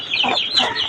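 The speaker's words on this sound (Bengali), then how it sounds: "ওই যে আমার 3টা মোরগ, আর ওই যে আরেকটা, টোটাল 4টা মোরগ।" A rooster clucks in short, close, fairly loud notes on a small home farm where ducks and chickens are kept.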